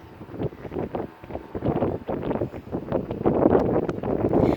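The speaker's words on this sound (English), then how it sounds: "that's a gust that just hit us from the starboard side, and now it's traveling out." Strong wind gust striking a boat on Cooks Bay, a loud broadband rushing roar buffeting the microphone that swells and builds over several seconds, with water and rigging noise mixed in.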